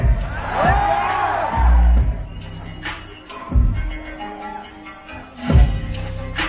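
A university seminar audience shouts, whoops and cheers in a large hall, bursting loudly in waves between stretches of someone speaking over a microphone.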